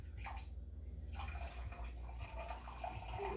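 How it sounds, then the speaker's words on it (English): Ice-cold water is poured into a measuring cup in a home kitchen, a quiet continuous trickle and splash with faint gurgling, close by and with no talking. "So, I have my ice cold water, and I'm going to measure it out"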